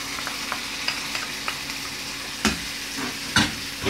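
Tomato juice going into sausage and vegetables sizzling in a pan, a steady frying hiss with a few sharp spoon clinks and scrapes, close, no voices.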